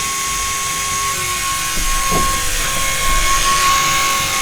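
A small fan shakes inside its casing, giving a steady, even whir with a thin high hiss and a faint tonal hum that holds for the whole stretch without pause.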